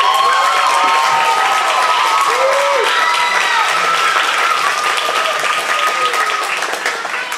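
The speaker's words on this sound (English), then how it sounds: "give a big round of applause for Strangely" A live audience applauds a performer named Strangely at a June 2015 vaudeville variety show, with steady dense clapping and some cheering, sustained and loud throughout without letting up.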